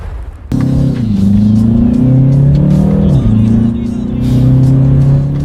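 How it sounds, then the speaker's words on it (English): A BMW 330i revs hard during quick paddle-shift changes. A sharp click is followed by a loud, close engine note that rises, dips abruptly at each shift, then climbs again in a steady cabin drone. "let's do that paddle shifter test here, see how quickly they react for us"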